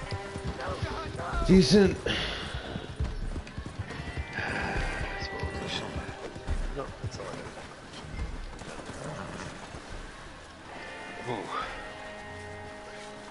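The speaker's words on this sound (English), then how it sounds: "Horses." Horse hooves clip-clop alongside neighs and whinnies in a video game, with a sharp whinny early on and steady hoof steps. Someone speaks briefly over them.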